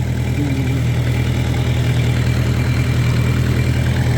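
A crop-spraying vehicle fitted with a large radiator and spray pump idles nearby, its engine giving a steady, even low drone with a faint rhythmic throb and no other sounds over it.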